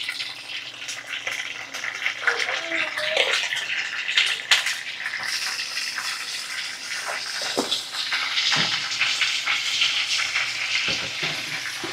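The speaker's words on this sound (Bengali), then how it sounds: "আমি তেলটা গরম হয়ে গেছে, আমি দিয়ে দিলাম তেলের মধ্যে চিংড়ি মাছগুলো" Prawns dropped into hot oil for a prawn malaikari, sizzling and spitting continuously at close range, with scattered crackles and small pops over a steady frying hiss.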